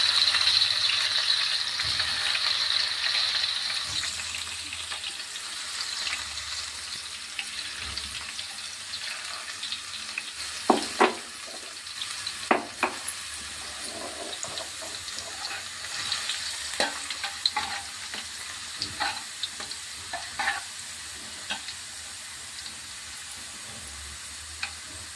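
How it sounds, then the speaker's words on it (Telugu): Crushed garlic frying in hot oil for a summer mango pickle hisses in a continuous sizzle, with scattered sharp clicks and scrapes from stirring throughout. "దీన్ని ఈ మరుగుతున్న ఆయిల్లో వేయాలి."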